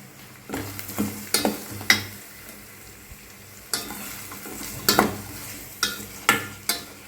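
Onions with a little salt sizzle in a pan while a utensil scrapes and stirs in repeated bursts, close up and without any voices.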